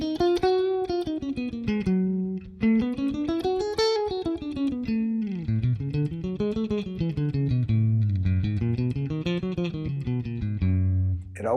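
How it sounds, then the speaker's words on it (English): A single guitar plays the major scale note by note, going up and back down in an even rhythm, clear and close with no talking. "Here is the major scale."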